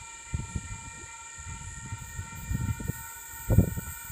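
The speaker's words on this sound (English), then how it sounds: "We've got A29 loco hauled approaching platform number 2." An A29 locomotive-hauled train approaches platform 2 at Wondabyne station. It is faint and distant, with low rumbling and soft clanks under a steady high electrical whine.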